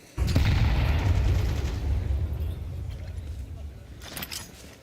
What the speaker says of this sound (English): Big deep nade